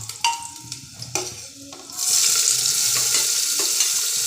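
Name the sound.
garlic and onion frying in a pan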